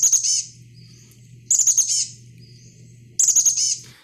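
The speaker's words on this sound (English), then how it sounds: "It almost sounds, and this is how it gets its name, it almost sounds like it's saying chickadee, chickadee." Chestnut-backed chickadee song: three short bursts of high, bright chirping notes about every one and a half seconds, fairly close and clear, over a faint low hum.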